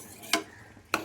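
A spoon stirring payesh sweetened with nolen gur jaggery in a pot: two short, distinct scraping clinks about half a second apart, close and fairly quiet against a soft background hush.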